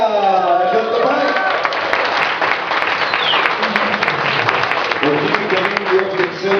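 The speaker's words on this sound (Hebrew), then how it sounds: "מחיאות כפיים." Audience applause after a diabolo juggling show, a sustained burst of dense clapping with some cheering, loud and close, while a voice talks over it at the start and again near the end.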